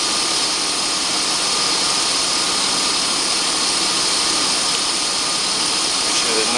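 A car engine runs steadily at idle while air is bled from the radiator and the engine has not yet reached temperature. The engine makes a constant, dense, broadband hum with a faint vibration and no change in pace.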